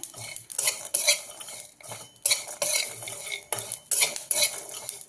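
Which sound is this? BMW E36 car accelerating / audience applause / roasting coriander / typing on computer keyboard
roasting coriander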